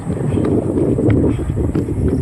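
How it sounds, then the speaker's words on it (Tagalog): Wind buffets the microphone in a steady rough rush, with faint scattered knocks and rustles underneath. "Sakong hangin ngayon."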